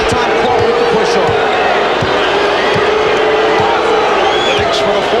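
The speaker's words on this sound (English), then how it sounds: "John Starks hears the boos from the crowd as he sets up against Michael Jordan" Dense, loud arena crowd noise fills a 1993 NBA playoff game between the Knicks and Bulls, a sustained roar with scattered whistles and thuds, announcer talk running over it.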